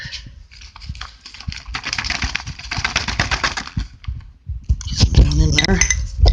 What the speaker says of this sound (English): So you see I'm just using a fork to scrape out my rye spawn.